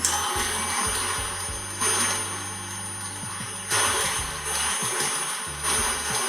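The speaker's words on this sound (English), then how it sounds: "I'm just going to increase the speed on our butter and sugar now until it gets light and fluffy." An electric mixer beats butter and sugar at high speed with a continuous whirring drone, its tone shifting slightly as the beaters churn, heard alone and close.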